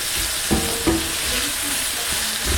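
Onions fry in oil in a pot for borscht soup, a steady close sizzle broken by a few utensil taps and stirring scrapes, fairly loud with no speech.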